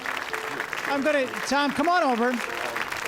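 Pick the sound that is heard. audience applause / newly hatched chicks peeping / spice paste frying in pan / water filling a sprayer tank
audience applause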